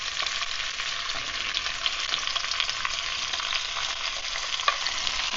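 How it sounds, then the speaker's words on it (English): Vegetables for Japanese curry sizzle steadily in a hot pan, a dense continuous frying hiss with occasional scraping stir clicks, close and alone with no talking. "So now we're just going to throw in all our vegetables."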